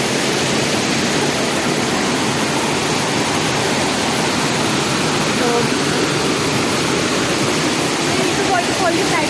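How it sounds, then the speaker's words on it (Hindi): Waterfall near McLeodganj, a steady broadband roar of falling water that fills the whole stretch, loud and close, with no breaks. "This waterfall is just majestic."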